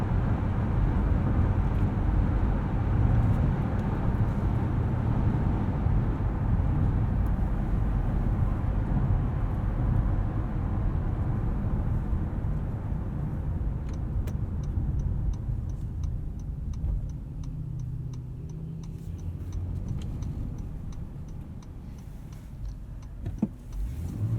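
A 2019 Honda Passport Elite AWD with a 9-speed automatic cruising, a steady low road and engine rumble inside the cabin with a faint rhythmic ticking later on.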